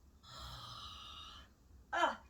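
A voice breathes in with a long, soft hissing inhale and then gives a short, loud, rasping snore-like snort out. The snore is imitated by a person.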